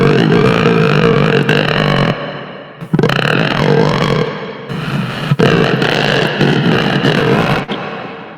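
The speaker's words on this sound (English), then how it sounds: "I kind of just try to sing all the lyrics along to the song only using vocal fry" Vocal fry singing of song lyrics, a creaky, growling voice held in pitched layers, loud and sustained in two long phrases with a short gap between them.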